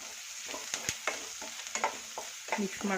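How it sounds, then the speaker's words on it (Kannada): Crushed garlic and onion fry in a pan for a home-style vegetable stir-fry, a close, steady sizzle broken by repeated clinks and scrapes of a spoon stirring, with no talking. "ಇದೆಲ್ಲ ಫ್ರೈ ಆಗುತ್ತೆ ಬೆಳ್ಳುಳ್ಳಿನೂ"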